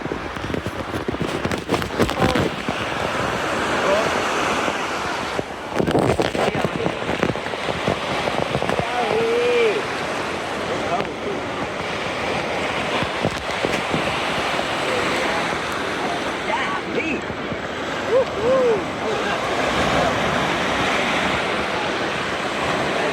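Steady ocean surf washes onto the beach at Siesta Key, with continuous wave wash and wind buffeting the microphone, close and fairly loud throughout.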